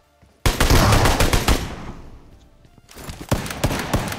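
Rapid gunfire in a battle royale video game, a loud close burst of automatic fire that trails off, then a second volley of sharp shots near the end.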